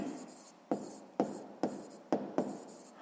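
A pen writes a maths answer by hand on paper, six sharp strokes each trailing into a soft scratch, close and quiet.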